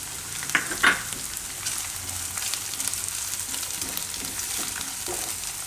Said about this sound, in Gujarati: ગરમ તેલમાં થોડીક વાર ફેરવી લઈને એટલે સરસ થઈ જાય છે